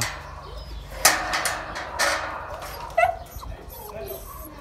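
Young puppies yip and whimper at feeding time indoors, a few sharp high cries spaced about a second apart over a soft background, with some quiet voices nearby.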